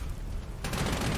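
A brief, sharp crackle of gunfire in Panzer Corps 2 breaks in abruptly over a low ambient rumble and continues as a dense burst.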